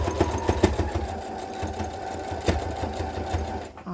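A sewing machine stitches an upcycled T-shirt in rapid, steady mechanical bursts, close and fairly loud, stopping briefly near the end.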